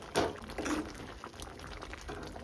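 Radish and lentil dal soup (mulangi bele saru) bubbling on a gas stove with fresh coriander added, stirred in a pot, giving soft liquid sloshes and scrapes over a steady simmering burble.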